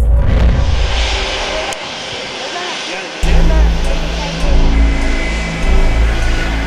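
Arriving airplane carrying relatives of three Filipinos sentenced to death in China, a loud continuous jet engine roar with a brief dip in the middle before the roar swells back up.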